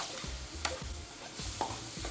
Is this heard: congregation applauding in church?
no